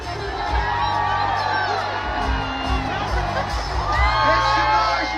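A concert crowd cheers, whoops and shouts in a loud, steady roar that swells and surges throughout, with individual yells rising out of the mass of voices.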